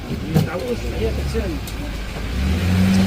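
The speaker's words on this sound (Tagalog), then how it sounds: "Ganyan ka traffic sa market." Market traffic at Baguio City Market, where a car engine revs close by over a low rumble and rises toward the end, with voices in the background.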